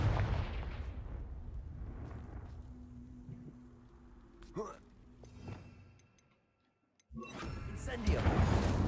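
Confringo blasting spell explosions in the Hogwarts Legacy video game: several loud, sharp blasts and crackling bursts over a rumbling bed, then a brief near-silent gap before another dense roar of impacts.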